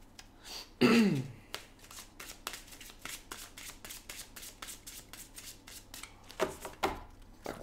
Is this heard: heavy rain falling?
no